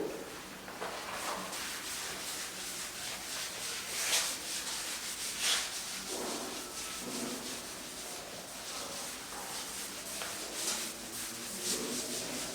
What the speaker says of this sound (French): Donc, je vais effacer le tableau.